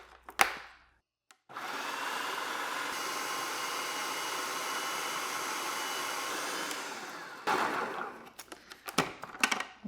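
A food processor whirs loudly and continuously for several seconds while blending sprouted peanuts into peanut butter, then stops and is followed by clattering knocks from the bowl and lid.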